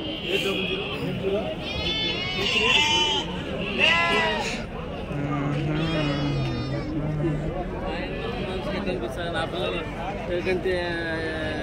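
Sheep and lamb bleats come from the pens of a busy weekly sheep market, both near and farther off, over a steady crowd babble and people talking.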